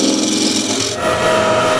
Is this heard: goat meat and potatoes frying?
no